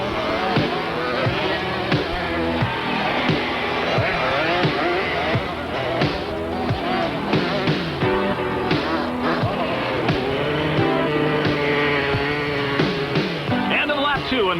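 Honda and Kawasaki ATC three-wheelers racing at the 1983 national championship in Santa Cruz, California, their engines revving and buzzing in rising and falling pitch beneath continuous commentary.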